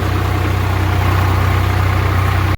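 A tractor engine runs at a steady idle in a paddy field, a loud, close, low throbbing chug that holds constant before cutting off abruptly.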